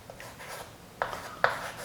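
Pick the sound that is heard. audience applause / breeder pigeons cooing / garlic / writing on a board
writing on a board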